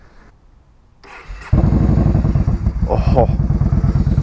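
A Yamaha Bolt motorcycle engine cranks and catches at about a second and a half, then idles loudly with throaty, uneven pulses and brief revs, close by, after a short spoken exclamation.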